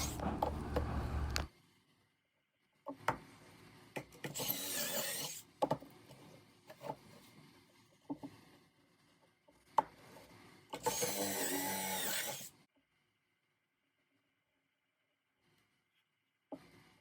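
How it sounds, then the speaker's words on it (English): A drill bores pocket holes and a driver sets screws into wooden boards for a farmhouse chair, with several separate bursts of whirring, some short and one longer, broken by quiet pauses and brief knocks. "lay out the boards and drill 3 pocket holes and glue and screw it together"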